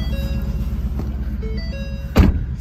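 A 2020 Ford Mustang GT with a six-speed manual idles in sport exhaust mode, giving a steady, close, deep rumble throughout, with a brief louder burst or thump near the end.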